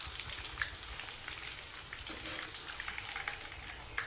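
Puri dough frying in hot oil, turned to cook on both sides, giving a continuous soft crackle and sizzle with scattered pops, close and quiet, with no one talking.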